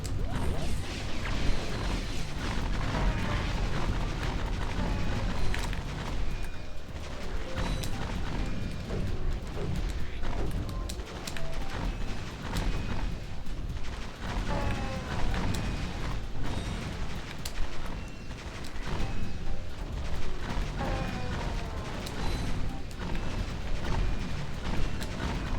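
Explosions and crashing mechanical effects from the PS2 game Ratchet & Clank, loud and dense throughout with repeated booms, smashes and clanks layered under game music, no voices heard.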